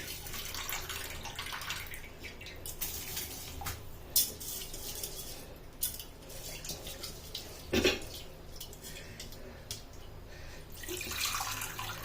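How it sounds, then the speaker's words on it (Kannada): Water boils in a cooking pot for mint pulao, a continuous bubbling hiss with a few faint clinks of the pot, no voices. "ನೋಡಿ ಈಗ ಕುದೀತಾ ಇದೆ."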